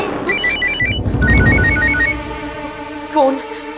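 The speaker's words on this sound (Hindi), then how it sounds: "फोन।" A telephone rings indoors with repeated bright electronic bursts in a quick pattern, loud and close, in a domestic drama scene with some background sound.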